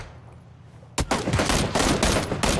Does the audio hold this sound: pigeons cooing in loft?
no